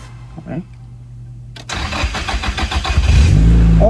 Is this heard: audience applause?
no